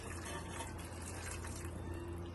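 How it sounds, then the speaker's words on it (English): Hot water pours into a pot for ramen with chicken and seaweed, a steady low splashing stream that stays even and fairly quiet from start to finish. "When the water's hot, I'll ask my nanny to put the hot water in."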